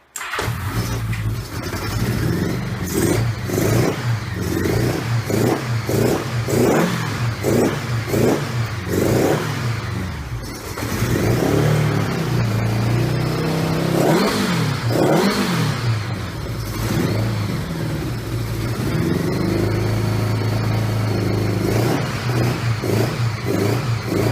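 A 1982 Honda Goldwing motorcycle engine in a smoky garage sputters through repeated rough catches and surges, stumbling and dying back instead of settling into a steady idle, close and loud with no talk.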